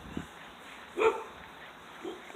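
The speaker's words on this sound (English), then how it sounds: "the dogs are barking around here for no reason." A dog barks once at mid-distance amid quiet outdoor background during a rainstorm, with a couple of fainter sounds around it.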